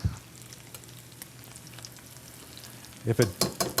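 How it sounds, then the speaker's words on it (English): Chicken pieces frying in hot oil give a steady, soft sizzle with faint crackling throughout, closing with a few louder bubbling pops near the end. "See that? Nice, violent boil."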